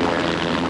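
A helicopter in flight gives a steady, loud, continuous drone with no talk, its rotor and engine noise filling the short moment evenly throughout.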